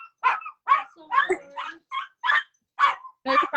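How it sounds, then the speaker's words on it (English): A dog barks in a quick run of about eight short, sharp yips and barks at close range, with quiet gaps between them. "It's a dog."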